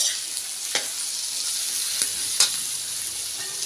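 Margarine sizzles in a pot while pork pochero cooks, a steady close frying hiss with a few sharp crackles and pops and no talking.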